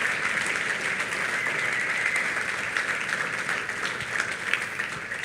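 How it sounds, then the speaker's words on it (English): Sustained applause from an audience at a leadership event, a full, steady patter of many hands clapping at even strength throughout. "Please give them a round of applause."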